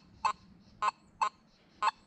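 Nokta Makro Simplex metal detector at 12 kHz chirping on iron, with four short, clipped honk-like tones in an uneven rhythm, close and fairly loud over quiet background.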